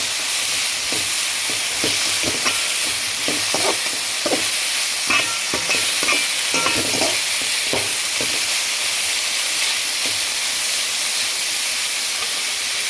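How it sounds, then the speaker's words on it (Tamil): Coriander, onion and cabbage sauté in a pan with a loud, steady sizzling hiss, while a spatula clicks and scrapes in irregular strokes close by throughout, with no talking. "கொத்தமல்லி வெங்காயம் முட்டைக்கோஸ் எல்லாத்தையும் நல்லா வதக்கிக்குவோம்"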